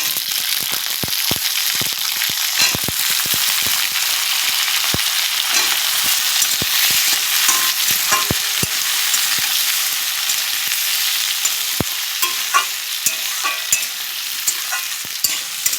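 Potatoes, some skin-on and some peeled, fry in a pan of oil after greens for a Bengali fish-and-rice lunch. A steady, close sizzle runs throughout, broken by sharp scrapes and clicks as they are stirred.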